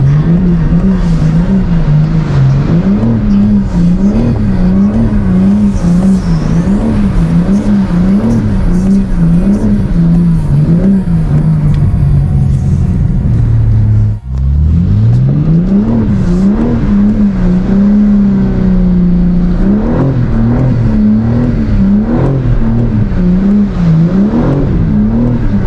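Loud, close engine of a stock BMW G82 M4 with stability control off in rear-wheel-drive mode, revving in wavering surges while doing donuts, its pitch rising and falling continuously and dipping sharply once midway.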